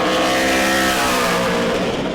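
Super Late Model race car number 29 out on track during qualifying at New Smyrna, a loud sustained engine roar holding steady close by, no voices.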